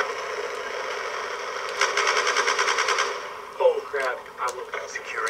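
Automatic-weapon fire in Call of Duty Black Ops 2 online multiplayer, a sustained rapid rattle with a louder burst midway, then scattered shots and a brief voice amid the game noise.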